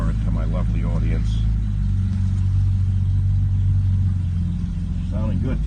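A Jaguar XK150 with a new stainless steel bell exhaust system idles with a steady, loud low rumble close by, while voices talk over it.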